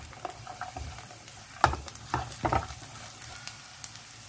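Garlic cloves and cashews for chicken masala sizzle softly in a pan, with a few louder stirring clinks and scrapes over the quiet frying hiss.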